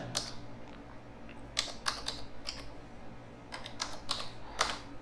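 Bursts of computer keyboard typing as a card number is entered for a class 9 fee payment, clustered clicks in two groups separated by a short quiet gap, close and fairly soft.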